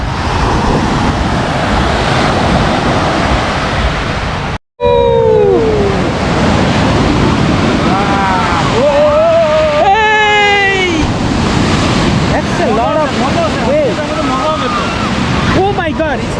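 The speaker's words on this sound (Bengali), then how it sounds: "এখানে অনেক ঢেউ দেখা যাচ্ছে।" Waves break and surge onto the beach at Centre Island, Toronto, a loud, continuous roar of surf with gusting wind buffeting the microphone; voices talk and exclaim over the crashing water.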